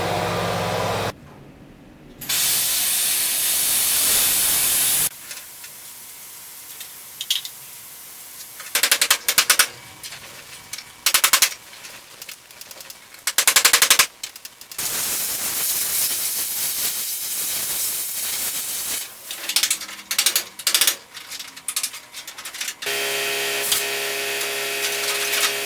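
A power tool cuts through the body panel around the rear wheelhouse of a 1966 Ford Mustang convertible, loud bursts of harsh, hissing, rattling cutting noise in repeated stretches with short pauses between them.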